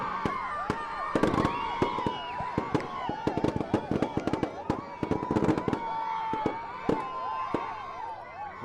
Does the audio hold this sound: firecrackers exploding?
yes